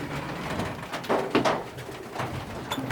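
Racing pigeons coo inside a loft, several soft throaty calls overlapping close by with a few rustles, no talking.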